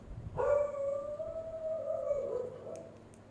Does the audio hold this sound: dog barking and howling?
yes